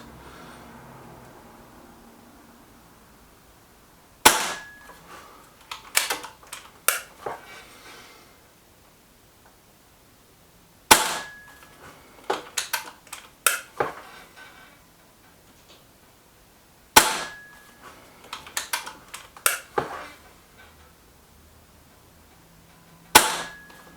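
A sub-12 ft lbs .22 air rifle fires slugs, giving four sharp cracks several seconds apart. Each crack is followed by a scatter of smaller clicks and clatter, and quiet gaps lie between the shots.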